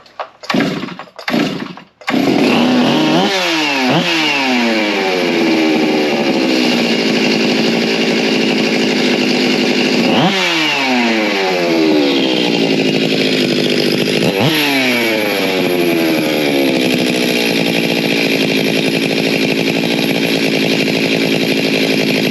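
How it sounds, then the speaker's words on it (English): A Stihl 361 chainsaw with a modified engine, running during carburetor tuning, roars close and loud after a few brief starting pulls, its pitch sweeping up and down as the revs rise and settle, with no talking. "Give it some more low. Give it a touch more high, just see where it's at."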